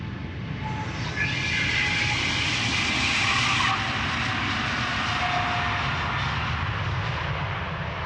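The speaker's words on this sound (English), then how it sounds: "China Southern Cargo 777 freighter, undoubtedly heading out to China, most likely Shanghai." A China Southern Cargo Boeing 777 freighter departs Amsterdam Schiphol Airport close by, its jet engines a loud, continuous broadband roar that holds steady throughout.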